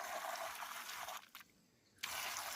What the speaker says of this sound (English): And I got a water hose that's going to help.